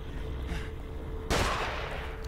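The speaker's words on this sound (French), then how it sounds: "Oh genre, on me tire dessus, quoi." A loud burst of gunfire breaks in partway through after a quieter stretch of game ambience in The Evil Within, then keeps rattling steadily to the end.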